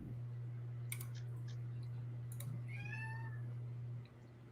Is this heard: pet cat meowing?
yes